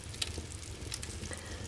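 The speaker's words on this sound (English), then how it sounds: "And that is sizzling, or simmering." Soft, steady sizzling crackles quietly as cornbread cooks over a fire in a fireplace, with faint pops scattered through.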